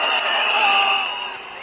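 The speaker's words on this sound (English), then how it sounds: "A crowd of thousands of people tried to storm the city hall building" A crowd of thousands of anti-government protesters storming Belgrade city hall raises a loud, sustained roar with a chanting, tonal quality that fades slightly toward the end.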